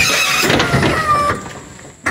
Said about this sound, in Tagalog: Baba natin yung ating wingban